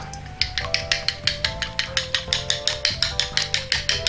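Eggs seasoned with salt and pepper are whisked briskly in a bowl for crab omelette, a fast, even run of sharp clicking beats of utensil against the bowl, close and clear with no talking.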